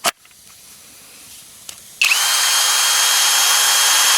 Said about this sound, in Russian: Это у нас кнопка включения шуруповерта.